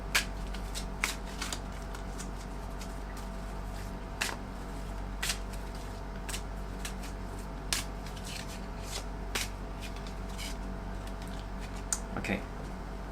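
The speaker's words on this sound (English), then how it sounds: "And let me pick some advice card" Advice cards for a tarot-style reading are shuffled near the microphone, a dry riffling broken by sharp slaps and taps at irregular intervals, with no talking.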